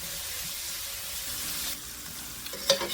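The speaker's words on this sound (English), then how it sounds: "We're going to simply throw that into our frying pan, and we're going to brown this up." Steady, close sizzling of kielbasa browning in a frying pan, a dense hiss that eases slightly midway, with a few light clinks near the end.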